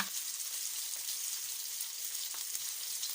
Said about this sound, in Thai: เมื่อ หมูสามชั้นเราเจียวคั่วแบบนี้ กลิ่นก็จะหอม หอมมากๆเลยนะคะ น้ำมันก็จะออกมาจาก สามชั้นด้วย